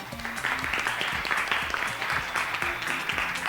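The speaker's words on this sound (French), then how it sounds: "Bravo, on peut les applaudir" An audience applauds the winners at a French-language open day, with steady, moderately loud clapping from many people filling the whole stretch.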